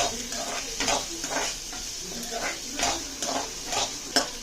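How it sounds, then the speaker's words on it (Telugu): Finely chopped green chillies and onion fry in a pan, with a close sizzle and rhythmic scraping stirs of a utensil against the pan roughly every half second, plus a faint metallic clink near the end. "ఇప్పుడు సన్నగా తరిగి పెట్టుకున్న పచ్చిమిరపకాయ, ఉల్లిపాయ అది కూడా బ్రౌన్ కలర్ వచ్చేదాకా వేయించుకోవాలి."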